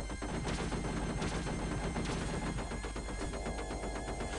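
Pulse rifle fire from the Aliens arcade game, a loud, continuous rapid stream of shots with a steady rattling rhythm over busy game noise.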